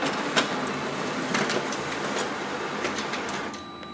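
A Canon imageClass MF452dw laser printer runs off a Windows test page, a steady close mechanical whir with rhythmic clicks and paper-feed ticks throughout, then quieter toward the end.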